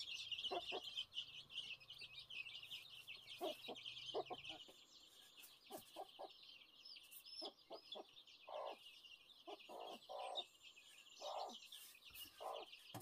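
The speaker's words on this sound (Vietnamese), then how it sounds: "Con gà này, con gà này." Chickens cluck in short, repeated bursts close by over a steady high insect or bird chorus, with a low hum fading out early on.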